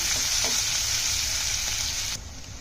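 Chopped onions frying in hot oil, a bright continuous sizzle close by with faint stirring touches, cutting sharply softer just before the end; no one talks.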